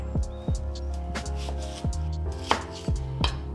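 Onions being chopped with a knife for gumbo-style collard greens, a series of close, sharp board knocks spaced irregularly against a steady low kitchen hum, with no talk.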